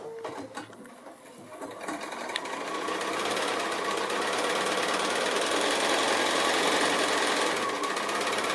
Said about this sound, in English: I'm going to stitch along that line